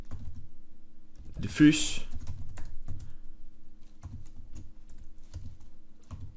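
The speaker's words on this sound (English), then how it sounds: "and then type in" Keys clatter on a computer keyboard in short bursts while a person speaks over the tapping, entering texture and map names for a Unity asset.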